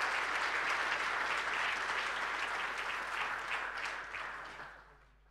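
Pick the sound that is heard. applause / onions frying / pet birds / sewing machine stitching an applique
applause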